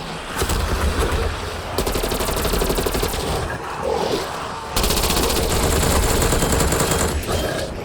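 Rapid semi-automatic shotgun fire in Black Ops Cold War Zombies, loud close bursts of repeated blasts with brief gaps between strings, amid roaring game noise and grunts.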